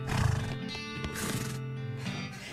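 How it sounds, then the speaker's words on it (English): A pale horse in the video game West of Loathing lets out a loud whinny with a rough, throaty start, then a longer wavering neigh that fades out over a couple of seconds against a steady background of game music. "Behold a pale horse,"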